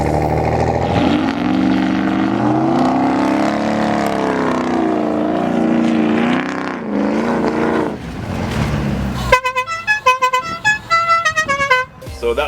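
A lifted truck's engine roars and revs hard as it pulls out of thick mud, the pitch rising and falling in loud sustained surges, ending in rapid choppy bursts.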